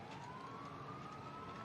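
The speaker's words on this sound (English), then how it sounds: "What are those sirens?" Police sirens wail in a steady, slowly rising tone in a TV episode, sounding distant and faint against a dense background hum, with no talking.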